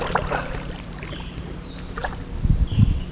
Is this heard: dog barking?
no